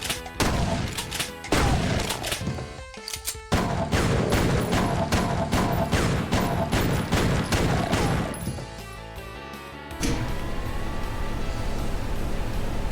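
Rapid gunfire in Doom, loud, rhythmic shots repeating in long runs, broken by brief gaps and a few heavier thuds, then continuing steadily to the end.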